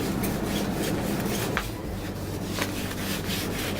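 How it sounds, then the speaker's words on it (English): Wet sandpaper rubbed by hand over painted go-kart bodywork, a steady close scratchy rubbing with strokes repeating throughout, no talking. "take the wet sand and just rub it on it like so"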